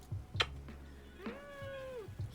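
A pet cat meows indoors, with a short early yowl followed by a longer, drawn-out whining meow, close and fairly quiet over low background hum.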